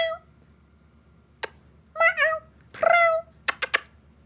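A pet cat answers with a few short, chirpy trills and meows in a quiet room. A brief click comes first, then two trilled calls, then three quick sharp chirps close to the listener.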